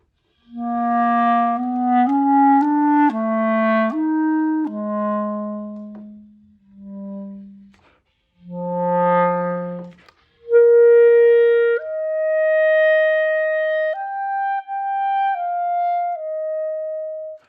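A solo clarinet plays a slow phrase of sustained, clear tones with short pauses between notes, close and alone.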